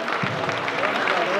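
An audience at a fashion night event applauds a stylist in a brief, dense burst of clapping, with a voice carrying over it.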